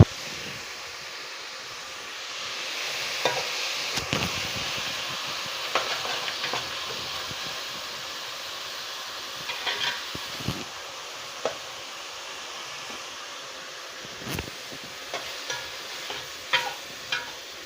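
Onion and hot peppers frying in a pan, a continuous close sizzle with intermittent scraping and clinks of a spoon stirring, alone without talk.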